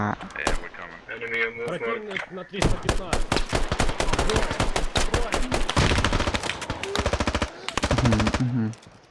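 Rapid automatic gunfire in the tactical shooter game Squad, with long sustained bursts that are loud and close, following an opening stretch of voices talking over the sound.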